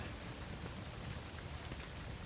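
Steady, fairly quiet rainfall from the weather effect in the video game No Man's Sky, heard out on a floating island, an even patter with no gaps throughout.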